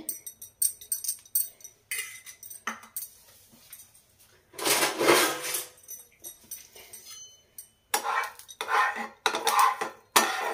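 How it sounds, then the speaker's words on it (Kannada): A non-stick pan set on a stove for dosa, with oil being added: scattered clinks and clatters of metal cookware and utensils come in bursts, some louder handling near the middle and end, with no speech. "ಈಗ ಒಂದು ಪ್ಯಾನ್ ಇಟ್ಟಿದ್ದೇನೆ ದೋಸೆ ಮಾಡಲಿಕ್ಕೆ. ಇದಕ್ಕೆ ಸ್ವಲ್ಪ ಆಯಿಲ್ನ ಹಾಕ್ತಾ ಇದ್ದೀನಿ."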